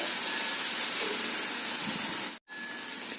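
Spinach sabzi frying in oil, a steady close hiss and sizzle of sautéing greens that continues evenly with one brief cut, no talk.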